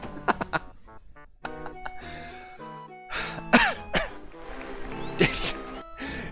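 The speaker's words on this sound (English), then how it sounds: "I've still got a little bit of a cough there" Several sharp coughs and throat-clearing bursts, close by, mixed with other brief sounds and a short musical jingle, in the game Toontown Rewritten.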